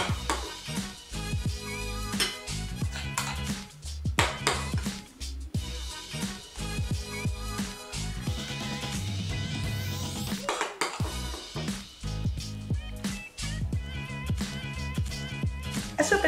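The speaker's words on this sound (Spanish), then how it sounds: "En el plato del microondas que he forrado con papel vegetal, vamos a poner nuestras galletas." Cookies being set onto a parchment-lined microwave plate make repeated clinks and clatters of dishes and utensils, close and busy throughout.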